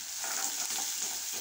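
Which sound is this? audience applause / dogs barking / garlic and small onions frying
garlic and small onions frying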